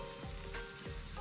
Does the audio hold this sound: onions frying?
yes